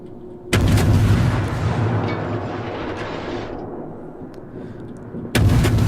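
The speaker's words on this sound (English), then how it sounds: "I'm also taking shots at the Frederick" Heavy naval gunfire from a Fletcher-class destroyer in the World of Warships game, two loud booming salvos at the start and end with a long rumbling decay in between, no talking.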